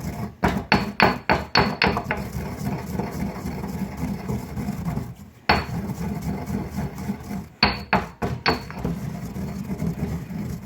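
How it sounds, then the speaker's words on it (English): Cumin seeds and salt pounded roughly by hand for coconut chutney, a series of sharp, close knocks in quick succession, then scattered heavier blows after a pause, over a steady low background hum. "first of all I'm going to grind this up roughly"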